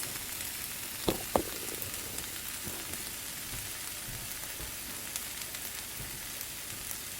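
Blended eggs and beans poured into a pan of frying chicken and vegetables for a frittata, giving a steady close sizzle with a couple of brief clinks near the start.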